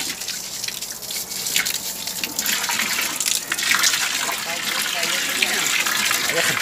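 Water pours steadily from an improvised pipe shower rigged overhead like a small waterfall in a Brazilian favela, a continuous close splashing gush with a voice talking over it.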